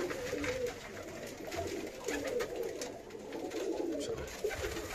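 Birmingham Roller pigeons coo softly and continuously in an enclosed loft, with rustling and fluttering mixed into the low, murmuring background.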